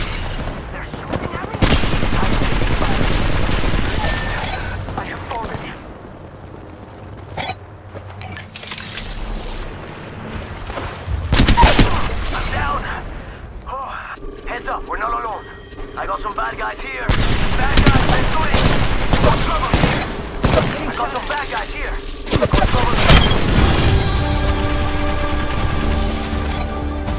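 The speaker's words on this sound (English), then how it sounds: "They're shooting everything! I'm taking fire!" Gunfire in the video game Apex Legends: dense bursts of automatic fire and heavy booming shots come in long loud stretches, with short pauses between them and voices talking over parts of it.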